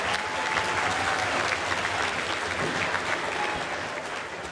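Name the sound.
audience applause for grade school band ensemble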